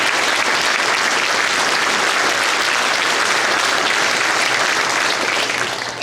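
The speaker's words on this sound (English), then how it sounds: "So if we can give a round of applause to Sergeant Dan Patton and Sergeant Coach." Loud, dense, continuous applause from the audience at a 2018 Shelton police reserve academy graduation ceremony, a steady roar of many hands clapping for the whole stretch with no talking.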